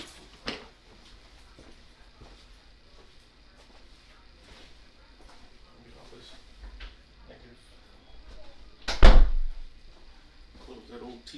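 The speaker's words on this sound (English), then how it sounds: "Let me close my door." An indoor door is shut with a single loud, close thump near the end, after a quiet stretch with faint room noise and soft voice sounds.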